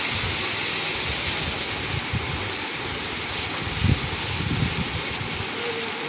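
Spice paste dropped into hot oil with fried cumin and dried chilli, giving a loud, continuous hissing sizzle that holds steady from start to finish.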